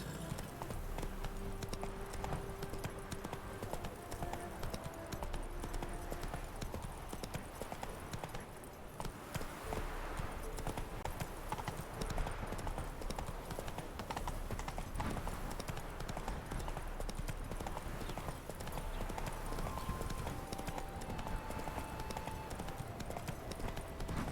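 Roach the horse gallops in The Witcher 3, rhythmic hoof clip-clops pounding steadily and close for a long stretch under game ambience.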